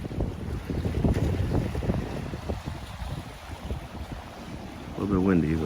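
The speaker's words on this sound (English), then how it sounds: "A little bit windy" Wind gusts over a lake at sunrise, a steady broad rushing roar with microphone buffeting, and a short voice-like sound near the end.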